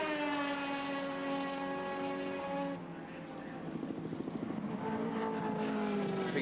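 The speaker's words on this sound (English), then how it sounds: "Now a comparison of the heavier V8 car down the straight versus the 950 kilogram Mazda" A heavier V8 touring car and a 950 kilogram Mazda race down the straight at Surfers Paradise in 1983, a loud sustained engine drone with rising pitch, briefly dipping before a second car's buzzing engine passes, with commentary talk under it.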